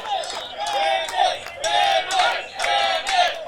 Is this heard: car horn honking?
no